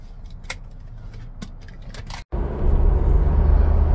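A Ford Bronco pulls away on a drive, with a few clicks and small clatters from inside the cabin before a steady, broadband engine and road rumble rises and holds, up close.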